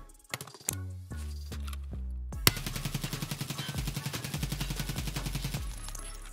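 Rapid automatic gunfire from a full magazine in the video game Escape From Tarkov, a few single shots first, then a long continuous burst of evenly spaced, loud, close shots for several seconds.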